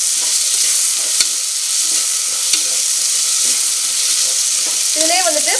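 Green chillies sautéing in a pan for a Tamil chicken kulambu, a steady close sizzle with occasional sharp utensil clicks as they are stirred, and a brief squeaky scrape near the end.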